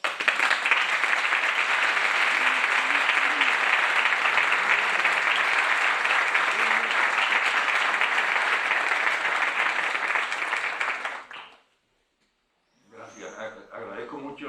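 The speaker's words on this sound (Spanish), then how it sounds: "Agradezco mucho los aplausos" An audience at a poetry book presentation breaks into sustained applause after a poem reading, a dense, even roar of clapping lasting about eleven seconds, then a short silence before a voice speaks.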